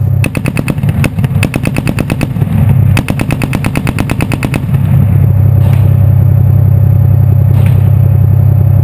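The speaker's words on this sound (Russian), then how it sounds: "танкисты обрабатывают боевиков пулеметом" A tank-mounted machine gun fires on rebel positions in Syria, loud and close, in rapid sustained bursts over a heavy rumbling tank engine, then the firing stops and the engine drone continues alone.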